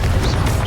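Confringo blasting spell in Hogwarts Legacy, a short, loud stretch of rumbling blast noise with a thin whistling streak, crowded game combat sound with no pause.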